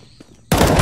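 A loud burst of gunfire in Counter-Strike: Global Offensive erupts abruptly after a quiet half-second of faint background, then sustains as dense, close shooting to the end.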